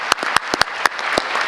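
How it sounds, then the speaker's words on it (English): A small audience at a township council meeting claps for veterans' services. The claps are close, loud and somewhat sparse, with individual sharp hand strikes standing out from the ongoing applause. "can we get a huge round of applause for their services"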